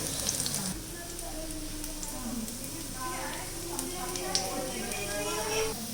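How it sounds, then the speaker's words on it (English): Chopped onion frying and sizzling in a pan while being stirred, a steady hiss under a speaking voice throughout. "When a nice aroma comes, we are going to add the chopped onion."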